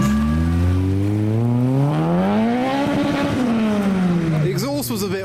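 A car revs and pulls away at a wet car meet, its exhaust note rising and sweeping in pitch before falling off, loud and close.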